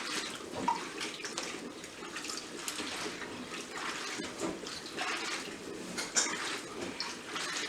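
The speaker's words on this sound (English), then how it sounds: "I'm grabbing the greens and I'm just swishing them around down in the water" Collard greens swished around by hand in a basin of water, a steady close splashing and sloshing that continues throughout with no speech.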